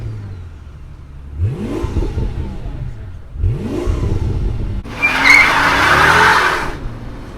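A 600hp Mercedes AMG V12 car revs up in repeated surging bursts, each rising in pitch as it accelerates, loud and close, with a rushing roar building at the end.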